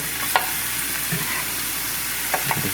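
Vegetables stir-frying lightly in a little oil, a steady close hiss with a few soft knocks of a utensil against the pan.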